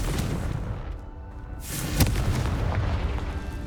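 A Confringo blasting spell goes off in Hogwarts Legacy, giving a loud explosive boom with a sharp burst around the middle over a constant dense rumble of game sound.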